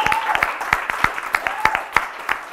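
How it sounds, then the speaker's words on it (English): A small audience at a live hotel show claps for a band, sparse and uneven individual claps sounding close, with a voice speaking over them. "Come on, let's hear a big round of applause for them."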